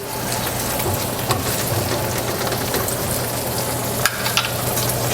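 Meatballs for spaghetti sizzle steadily as they fry in a pan, broken up and stirred with a utensil, a few sharp scraping knocks standing out near the end.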